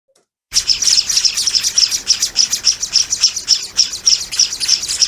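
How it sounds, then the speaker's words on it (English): A flock of scaly-breasted munias calls nonstop, a loud, close, high-pitched chorus of rapid repeated chirps that starts suddenly after a brief silence and keeps a steady pulsing rhythm. "This is the beautiful scaly-breasted Munia"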